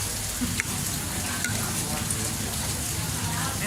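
Ginger stir-frying in a pan gives a loud, dense, steady sizzle with faint scraping from stirring, heard close up while a person talks quietly over it.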